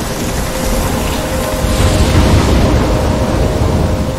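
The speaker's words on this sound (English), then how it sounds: "I'm trapped in a storm?" Heavy rain pours steadily in a Life is Strange thunderstorm, with dense hiss throughout and a low thunder rumble building in the middle, loud and close with no voices.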